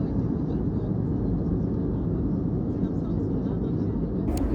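Steady low, broadband roar of airplane engines inside the cabin during a flight, loud and unbroken throughout, with voices talking quietly under the drone.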